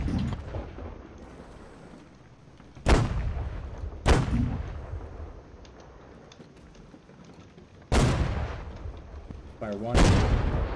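Ship's cannons fire in a naval battle game, four loud booming shots spaced a few seconds apart, each with a long rumbling decay, under a background of low murmur and faint talk.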